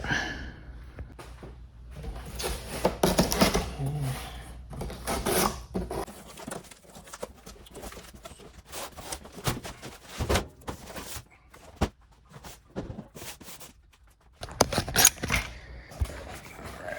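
A BestArc MIG 145 welder package being opened, heard as scattered close rustling, scraping and knocking of cardboard and packing material in irregular bursts, with quieter pauses between them.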